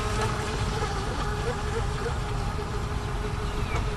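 Pro Boat Widowmaker RC boat running at half throttle, a steady buzzing electric motor whine with water hiss, constant and fairly close throughout.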